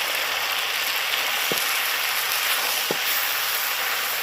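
Dried fish masala frying in a pan with a spoonful of cumin powder, a dense continuous sizzle close up with two brief utensil knocks against the pan, no one talking.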